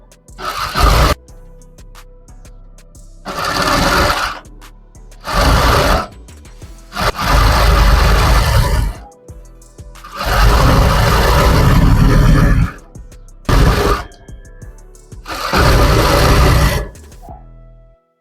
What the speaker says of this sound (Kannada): ನೋಡಿ ಇವಾಗ ಕಂಪ್ಲೀಟ್ ನಾವು ಲೈನಿಂಗಿಗೆ ಒಂದು ಸ್ಟಿಚ್ಚನ್ನು ಬಿಟ್ಕೊಳ್ಳೋಣ